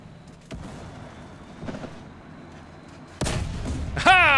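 Heavy cannon shots from a T-90A tank in War Thunder, several sharp booms spaced across a few seconds, the last ones louder and closer, with battle noise between them.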